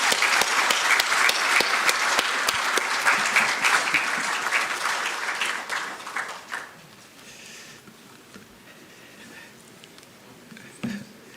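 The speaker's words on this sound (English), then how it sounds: "Let's give him a round of applause." An audience at the swearing-in of Justice Paul Baffoe-Bonnie as Chief Justice of Ghana breaks into loud, sustained applause that fades after several seconds into a few scattered claps.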